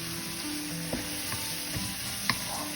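Masala spices with coriander seeds sizzle steadily in a hot pan, a faint, even frying hiss broken by a few soft clinks and scrapes of a spoon stirring, with no talking.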